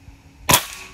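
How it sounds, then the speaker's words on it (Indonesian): A single sharp shot from a Black Lava air rifle cracks out close by, one crisp burst with a quick decay in an otherwise quiet outdoor setting. "Lanjut ya, tembakan ke-6."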